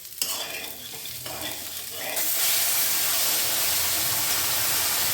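Boiling water poured into a pan of hot, lightly fried rice for Bengali sweet pulao, starting with stirring clatter and then breaking into a loud, steady hiss and sizzle that holds to the end.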